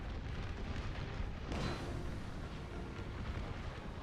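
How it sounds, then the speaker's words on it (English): Artillery fire in Total War: Napoleon with an American Civil War mod, a low, rumbling barrage heard from a distance as a constant dull roar, with one stronger boom partway through. "Heavy firing from artillery though"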